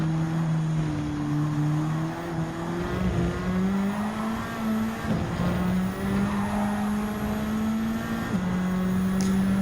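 Nissan Silvia S15 Gr.4 race car in Gran Turismo 7 at a steady high rev, its engine note climbing through the gears with brief dips at shifts, loud and continuous with no talk.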